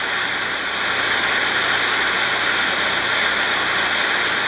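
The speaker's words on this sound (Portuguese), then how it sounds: "E para sentir um pouco o orvalho da cachoeira com esse som imponente" A waterfall plunges with an imposing, loud, steady roar of rushing water, heard close and alone without any voices.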